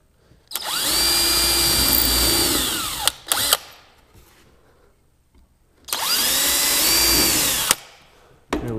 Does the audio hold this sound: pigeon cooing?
no